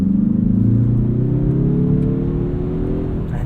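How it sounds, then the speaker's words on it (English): A 2022 Mazda3 2.5 Turbo AWD hatchback engine accelerating, a deep, meaty, rising drone heard from inside the cabin, steady and fairly loud. "I think the engine sounds quite good. It's got this really meaty, torquey sound to it"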